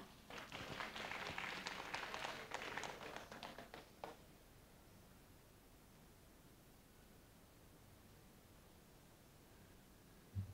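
Faint, distant audience applause welcomes a vice governor at a formal Chiang Rai arts ceremony. Dense clapping lasts about four seconds, then fades into quiet room hiss.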